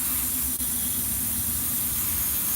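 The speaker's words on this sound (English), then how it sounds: "Stand this way and spray that way." An aerosol spray can being sprayed indoors gives a steady, loud, continuous hiss that fills the whole clip without a break, with no voices over it.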